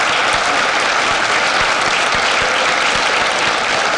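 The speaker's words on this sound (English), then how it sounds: "please join me once again in a round of applause for our new Honor Society" A large audience at a high school National Honor Society induction ceremony applauds new inductees, loud, dense and continuous clapping filling the room for the full four seconds, with no voices standing out.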